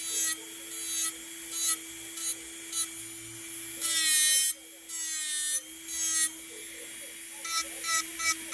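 High-pitched electric nail drill whirs steadily while filing gel off a fingernail, its whine rising and dipping in short bursts as the bit presses and lifts, with a stronger, brighter surge midway; close and continuous.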